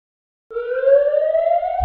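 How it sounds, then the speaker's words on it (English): A loud siren wail starts abruptly and rises steadily in pitch, close and alone, cut off after about a second and a half. "I had my lights and sirens on"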